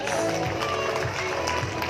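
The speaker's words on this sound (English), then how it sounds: "Another round of applause for our reigning queens." A crowd at a pageant screening for the reigning queens applauds in a dense, steady wash of clapping with some crowd murmur, with no single standout voice.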